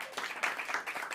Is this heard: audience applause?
yes